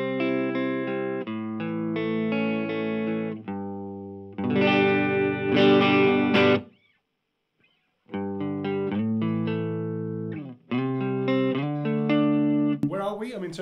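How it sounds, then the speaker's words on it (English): Electric guitar played through an Orange Micro Terror amp head into a 12-inch speaker cabinet with no amp reverb, giving distorted chords and single-note phrases in several bursts broken by short pauses, loud and close. "But now let's hear the Orange Baby Terror, Mini Terror. Micro Terror."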